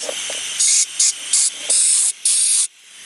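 Short blasts of compressed air clean the mass air flow sensor of a Toyota Corolla, six loud, sharp hissing bursts of spray in quick succession with small gaps between them.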